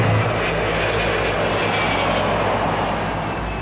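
Steady, loud drone of a Cessna light aircraft engine taxiing on an airport near an active runway, a continuous low rumble with a constant hum throughout and no talking.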